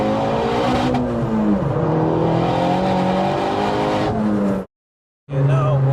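Turbocharged 387 hp front-wheel-drive Corsa engine spooling up, heard from inside the car as a loud rising whine and roar that climbs and dips with throttle, cuts out briefly near the end, then resumes.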